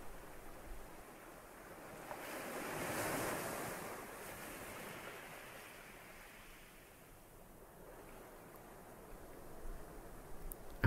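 Gentle ocean waves wash in slow, soft swells, rising and falling faintly with a breathy hiss and no voices.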